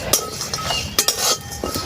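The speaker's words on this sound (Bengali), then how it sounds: "হালকাভাবে একটু সেঁকে নিচ্ছি।" Spices dry-roast lightly in a pan for a mango and jaggery preserve as a spoon turns them: loud, close scrapes and clinks of metal with a dry rustle between strokes, no talking.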